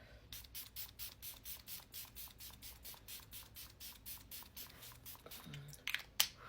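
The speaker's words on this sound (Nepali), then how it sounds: "अब फुल फेसमा स्प्रे गरौँ" A Dalba face mist is sprayed over the whole face, a quick regular series of soft, close hissing spritzes, quiet and rhythmic, ending with a small clatter.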